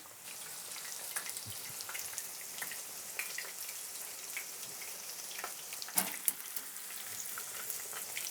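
Chicken breast Milanese cutlets in breadcrumbs frying in oil in a pan, a steady close sizzle with faint crackles and an occasional soft clink throughout.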